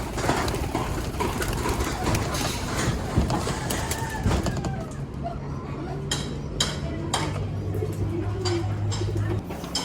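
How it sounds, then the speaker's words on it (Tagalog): Pigeons in a loft coo softly in low, repeated rumbling calls, with people talking nearby and scattered clatter around them. "Ito mga ibon natin sa labas"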